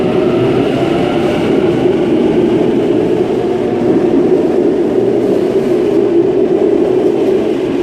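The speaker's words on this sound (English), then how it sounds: "And Waratah Series 1 A34 now departing platform number 4 Gordon service." A Sydney Waratah Series 1 electric train departs a platform at night, with a loud, continuous low rumble and whine of motors and wheels close by.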